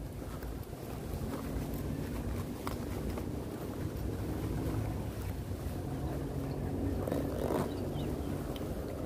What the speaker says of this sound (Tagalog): Medyo mahangin pa rin mga boss.